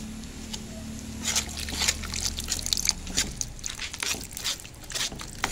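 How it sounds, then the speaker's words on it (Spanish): Water is poured little by little into a hand-mixed dough for Cusco-style rocoto relleno, a faint trickling and splashing with soft drips, preceded by a low hum. "Vamos echando nuestra agüita"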